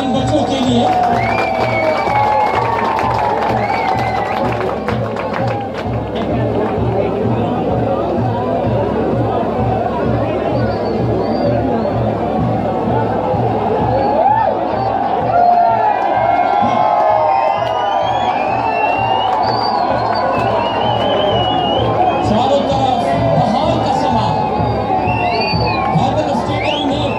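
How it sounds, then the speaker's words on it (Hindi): A large crowd at a children's sports gala opening ceremony in Bahawalnagar cheers and chatters loudly throughout, with scattered whoops, shouts and a steady beat underneath, while a voice speaks over the noise. "जोरदार तालियां इन बच्चों के लिए"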